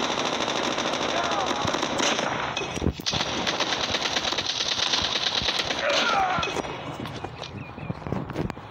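Rapid bursts of automatic gunfire from a Call of Duty match crackle almost nonstop, loud and close, with brief gaps and a few louder single shots.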